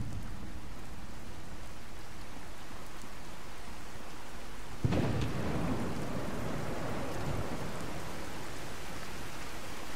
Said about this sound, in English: It already has started raining.